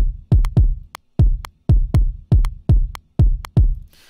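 Punchy, booming layered kick drum hits, two kicks stacked together, repeat in a steady pattern, each with a deep low thump and a sharp click on top, some paired closely.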